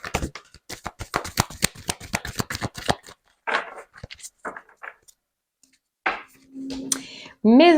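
Oracle cards being shuffled and drawn: a fast run of crisp riffling clicks for about three seconds, then scattered softer card handling, with brief speech near the end.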